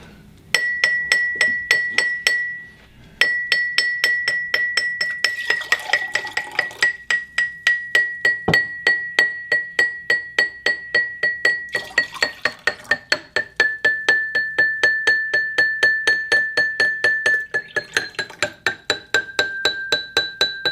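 An empty glass is tapped repeatedly in a quick steady rhythm, each strike giving a bright ringing clink that sustains a clear high tone.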